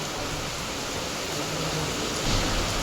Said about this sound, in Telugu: వర్షం పడుతుంది. పొద్దున్న నుంచి ఇట్లే ఉండే, ఇప్పుడు స్టార్ట్ అయింది వర్షం